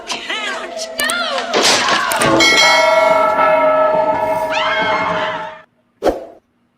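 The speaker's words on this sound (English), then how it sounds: "Not that bell. This bell." A bell rings loudly with a long metallic, overtone-rich sustain over a dense layer of other sounds and voices, cuts off abruptly, then a single brief thump follows.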